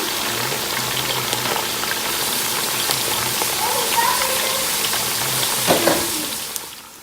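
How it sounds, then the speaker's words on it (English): Iru fries in oil with onions for Ofada stew, making a continuous bubbling sizzle with occasional stirring knocks. "So I'm adding the iru now to the oil and onions. And I'm gonna let it cook for a little bit."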